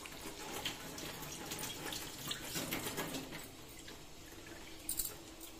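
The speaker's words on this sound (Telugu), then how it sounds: "శుభ్రం కడుక్కుంటున్నాను." Tamarind is rinsed by hand under a running kitchen tap, a steady close stream of water with soft splashing and squishing throughout.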